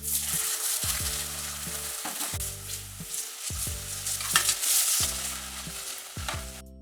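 Loud, steady sizzling of onion and tomato frying in a pan, with rhythmic clanking of a spoon stirring against the metal.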